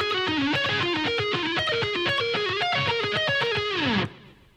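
Slowly played guitar solo with heavy distortion, a run of single picked notes stepping steadily downward before ending abruptly, with a brief fading ring after.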